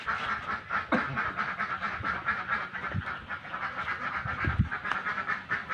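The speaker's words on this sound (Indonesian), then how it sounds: "Jadi dalam satu kandang itu dipisah ada bebek dan ada ayam." Ducks in a farm pen set in the middle of rice paddies, quacking repeatedly and overlapping, fairly close, with a steady dense chorus of calls and no talking.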